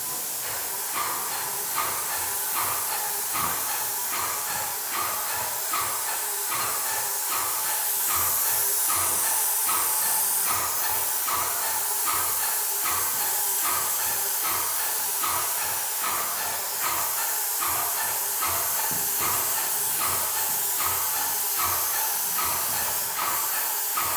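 Paint sprayer spraying a door, a loud, steady hiss of atomised spray running continuously with faint rhythmic pulsing from the machine, close to the mic and without talk.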